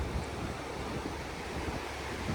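Fast-flowing, swollen river water rushes in a dense, continuous roar, loud and close, with broad churning noise and no other sounds.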